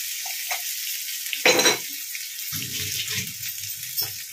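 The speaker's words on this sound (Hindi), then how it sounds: "तो यहाँ पर देखिए मैं अदरक को थोड़ा भून लेती हूँ" Crushed ginger and green chillies fry in a pan with a thin, steady hiss, broken by a sudden louder burst of spitting and a short stretch of low clattering stirring; no voices.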